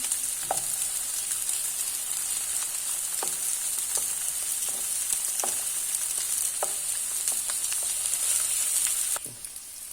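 Sucuk sizzles steadily in a pan while being stirred, a close, dense frying hiss punctuated by regular scrapes and taps of the utensil, ending abruptly near the nine-second mark as the heat drops away.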